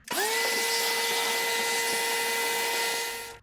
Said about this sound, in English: have someone in the front with the vacuum sucking up all the dust that's flying towards there